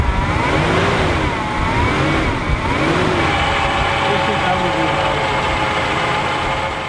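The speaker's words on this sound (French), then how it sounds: "on a démarré le moteur, ça a marché au début, bah, ça toussait pas mal" Car engine running rough and sputtering after being started, close by, with uneven revving under people talking.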